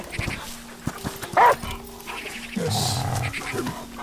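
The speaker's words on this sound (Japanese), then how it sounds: "じゃあここに犬を呼ぶ。" A dog in the video game Last Day of June pants and gives a few short barks and whimpers amid game sounds, with a brief spoken word from a player.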